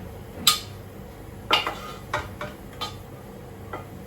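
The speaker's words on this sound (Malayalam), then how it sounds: "തോരൻ ഞാൻ വേറൊരു പാത്രത്തിലേക്ക് മാറ്റിയിട്ട് ഈ പാത്രം പെട്ടെന്ന് കഴുകി വെക്കണം" A metal cooking pot clanks and scrapes against the sink as it is washed in a home kitchen after making thoran, with several sharp knocks spaced over a few seconds against a quiet background.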